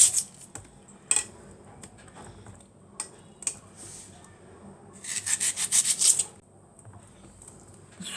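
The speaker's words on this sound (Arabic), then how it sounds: "قطعيها كده حلقان" A knife slices an onion into rings on a cutting board: scattered single cuts at first, then a quick run of close, crisp chops. No voice is heard.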